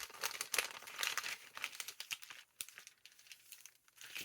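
A big glassine paper envelope crinkles and crackles as it is folded in half by hand, close and quiet, with bright rustling bursts easing into softer creases.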